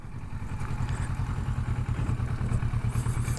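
Kawasaki Versys 650 motorcycle on a test ride, its engine throbbing steadily and loudly throughout with a rough mid-pitched drone and light clatter, close and continuous.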